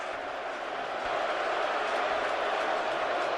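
Continuous roar of a football stadium crowd at an NFL game, Dallas Cowboys at Philadelphia Eagles in 2008, reacting to a dropped pass, swelling slightly louder partway through and holding steady.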